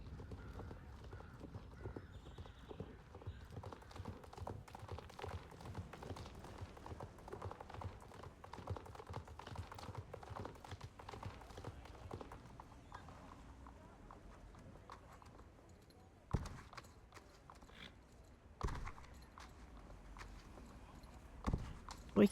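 A Friesian horse gallops in the video game Star Stable Online, rhythmic hoofbeats running steadily at a moderate level, with a few louder thumps near the end and a person talking over it.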